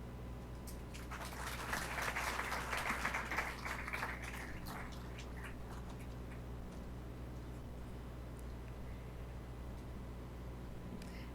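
A small audience at an employee quarterly awards ceremony claps for length-of-service awardees, a brief scattered round of applause that fades out after a few seconds into quiet room hum.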